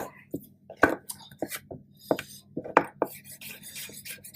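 A knife chops vegetables into a fine brunoise dice on a cutting board, giving quick irregular taps against the board at close range, moderately quiet, with no speech.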